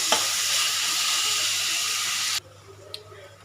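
Onions sautéing in a pan for a liver kofta curry give a steady, loud, close hiss that stops abruptly after about two seconds, followed by quiet room tone and one faint click.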